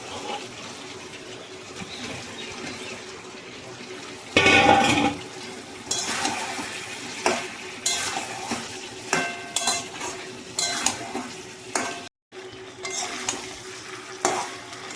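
Chicken and soaked potatoes frying in a pan, stirred with a spatula in repeated scraping strokes over a loud sizzle that surges when the potatoes go in.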